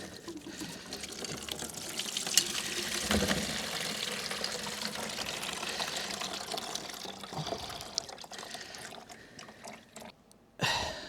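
Old coolant drains from a Triumph Street Triple R motorcycle in a steady, continuous pouring trickle that lasts about ten seconds, close up, before it cuts out near the end.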